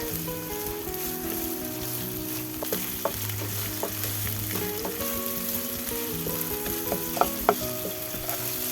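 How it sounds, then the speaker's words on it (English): Spring onion whites sauté in hot oil for chicken fried rice, a steady loud sizzle with occasional sharp clicks of a spatula against the pan, and no talking. "Saute for a few seconds."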